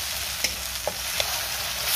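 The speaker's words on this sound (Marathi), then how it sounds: "मी 1 मीडियम साईजचा टोमॅटो कट करून घेतलेला आहे आणि टोमॅटो चांगला शिजेपर्यंत, मऊ होईपर्यंत मी परतून घेणार आहे." A chopped medium tomato sautés in hot oil in a pan, a steady soft sizzle broken by a few light stirring clicks, close and without talking.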